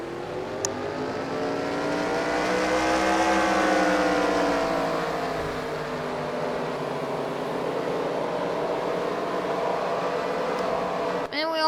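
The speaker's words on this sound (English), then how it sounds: "Drivers, start your engines." Several NASCAR stock cars firing up and rumbling in the NASCAR Racing 2003 sim, a layered engine drone that swells and rises in pitch before settling into a steady idle-like hum, with two brief clicks.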